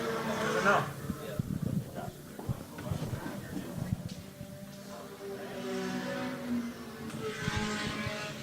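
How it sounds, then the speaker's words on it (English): A train of race cars, led by a Nissan Juke, heads into turn 1 at a GRIDLIFE track event, engines rising and falling in uneven passes under a commentator's voice. "A nice big train of cars here into turn 1."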